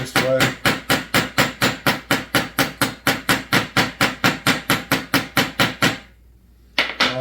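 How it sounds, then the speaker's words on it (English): Ball peen hammer peening over a rivet on a chainsaw bar tip, about twenty-two sharp metallic strikes in a fast, even rhythm, close and loud, then a brief pause and one more hit. "All I'm doing is taking and peening it over with the ball peen"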